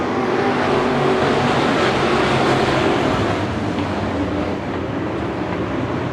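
Race cars roar off at the start of the A main at Bakersfield Speedway, a dense, loud, continuous engine drone that holds steady throughout with no break.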